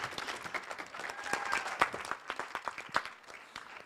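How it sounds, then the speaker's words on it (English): Audience at a STEM education conference applauding a student, with sparse, uneven individual claps from a modest crowd, fairly close and tapering off. "Give her a big applause."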